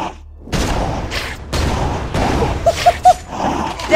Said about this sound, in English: am I shooting lasers like Cyclops from X-Men, or what am I doing here